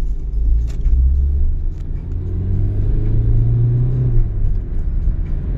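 A Mitsubishi Space Star 1.9 DI-D diesel car accelerates in reverse, a deep rumbling engine note that rises and swells in pitch, heard from inside and fairly loud, with light rattles over it.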